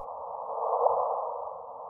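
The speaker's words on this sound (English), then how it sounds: "With some computer processing and a lot of amplification, they sound like this." A gravitational wave signal, processed and heavily amplified into sound, comes through as a steady, close tone with a brief rising chirp in the middle and a faint low rumble underneath.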